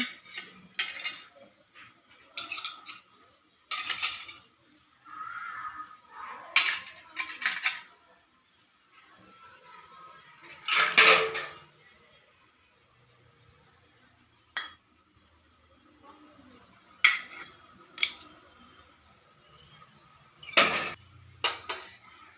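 Metal utensils clink and clatter in separate bursts, pots and plates knocked together and set down, with quiet gaps between.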